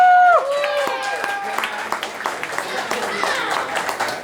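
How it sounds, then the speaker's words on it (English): Audience at a stand-up comedy show claps and cheers for a comedian taking the stage, a steady dense patter of applause with whoops over it, following a brief spoken introduction. "Please give a big round of applause for Josh Lee."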